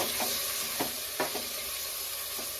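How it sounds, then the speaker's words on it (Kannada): Mutton tripe sizzles loudly in a hot pan while a spoon stirs it, with soft repeated scraping strokes over constant close frying and no talk. "ನೋಡಿ, ಇವಾಗ ಮಟನ್ ಬೋಟಿ ಹಾಕೊಂಡ ನಂತರ ನಾನು ಒಂದು ಮಿಕ್ಸಿನ ಕೊಟ್ಕೊಳ್ತೀನಿ."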